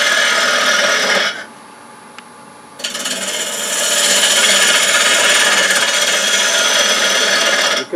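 Bowl gouge cutting a Bradford pear wood bowl on a lathe, a loud, steady broadband scraping hiss that drops out briefly near the start, then resumes and builds to a sustained cut.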